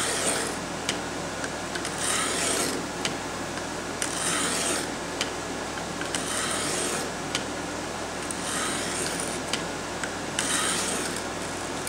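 A knife is drawn along a Worksharp guided sharpener, making rhythmic rasping strokes roughly every two seconds, each a gritty scrape close to the mic over a steady background.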